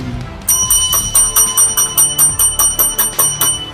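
A bright bell rings in a rapid, steady series of about a dozen evenly spaced strikes, clear and close.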